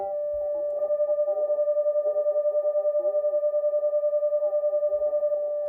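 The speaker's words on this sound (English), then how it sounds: "If I hit the spot now, you should be able to hear the oscillation." A steady pure tone from a radio hums with a regular, rapid pulsing beat from a 10 Hz offset running through it, heard alone and fairly quiet throughout.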